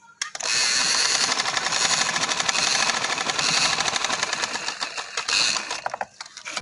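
A sewing machine stitching the hem strip of a maroon trouser, a fast, continuous close mechanical rattle that runs for several seconds and then slows and stops.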